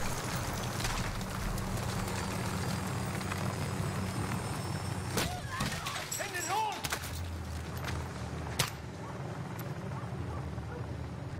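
Helicopter rotor and engine noise from the Modern Warfare video game, heard as a continuous loud roar with a few sharp gunshot-like bursts near the end, no talking.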